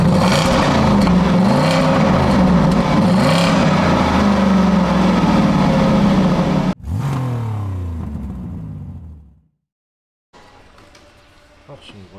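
A Jaguar XK fitted with a sport exhaust revs hard in a loud, sustained roar with rising and falling pitch, then cuts off and winds down into a brief silence before faint low noise returns.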